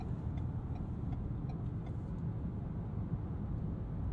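Ford Maverick Tremor pickup cruising around town in normal mode, a steady low engine and road rumble heard from inside the cab, continuous and even throughout.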